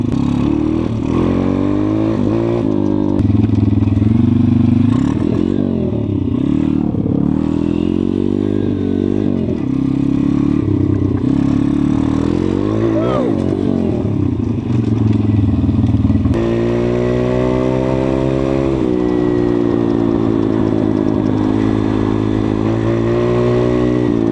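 A Kovi Pit 150 pit bike engine revs loudly and repeatedly, its pitch climbing and dropping with each twist of the throttle, then holding a steadier high drone.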